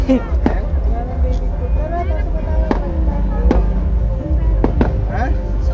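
Sharp fireworks pops crack out at irregular intervals over a dense crowd murmur and continuous low rumble at Mall of Asia, some bursts near, others more distant.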